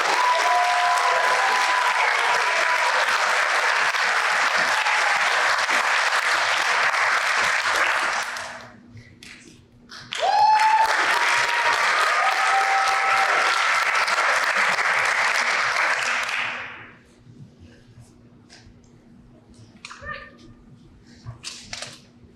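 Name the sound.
applause for law enforcement graduates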